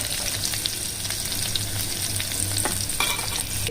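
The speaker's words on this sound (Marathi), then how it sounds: "आता हे छान असं आपल्याला तेलामध्ये चांगली फोडणी तयार करून घ्यायची, एकदम तळेपर्यंत, या लसणाचा कलर बदलेपर्यंत" Garlic and green chillies sizzle in hot oil for a tempering for a traditional village kadhi, giving a dense, continuous frying crackle with occasional stirring scrapes, close and steady.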